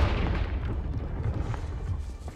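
A Confringo fire blast spell cast in the Hogwarts Legacy game erupts in a sustained rumbling boom with crackling bursts, loud and close, rolling on for a couple of seconds.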